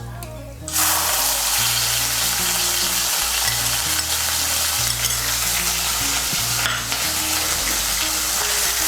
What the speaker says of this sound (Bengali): বাটা মশলাটাকে মিশিয়ে নেব ভালো করে তেলের সঙ্গে। মিশিয়ে নিয়ে মশলাটাকে ভেজে নেব।